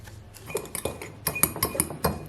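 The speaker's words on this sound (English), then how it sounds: "you just want to give that a good mix" A utensil mixes pumpkin cream cheese muffin batter in a bowl, with quick, close, repeated clinks and scrapes against the bowl in a busy rhythm.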